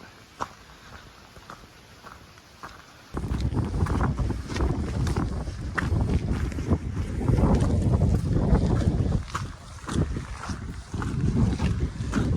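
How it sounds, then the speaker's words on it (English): Strong gusting wind on a mountain buffets the microphone after a quieter start, a steady roaring rush that swells and dips with no voices. "It does seem quite windy up here."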